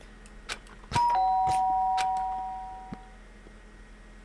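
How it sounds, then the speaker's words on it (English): A doorbell in the Danganronpa video game rings once with a clear, sustained two-tone chime that slowly fades, over quiet background music. "did I just hear the doorbell?"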